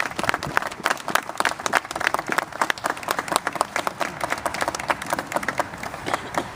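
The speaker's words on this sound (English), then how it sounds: "Let's give these two gentlemen a round of applause." An audience claps steadily for two honored veterans at a park landmark dedication ceremony in Albuquerque. Dense, sustained applause fills the whole stretch at moderate distance, with no talking over it.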